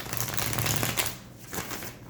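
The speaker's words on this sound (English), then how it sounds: "just one more shuffle" A quick riffle of tarot cards being shuffled, a dense flurry of soft flicks close up that slows and thins toward the end.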